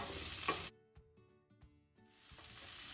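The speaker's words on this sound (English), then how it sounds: "then again I will stir it" Onions frying with a pinch of salt in a pan for cauliflower upma sizzle close by, then drop away to near silence with a few soft stirring scrapes before the sizzle swells back.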